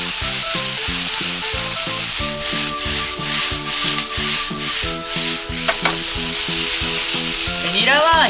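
Garlic chives tossed with fried tofu in a hot pan, a loud steady sizzle with rhythmic scraping and stirring strokes throughout, close and alone.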